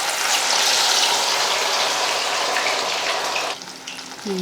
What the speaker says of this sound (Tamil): நான் வந்து நிறைய எண்ணெய் வச்சு தான் மீன் பொறிக்கிறேன்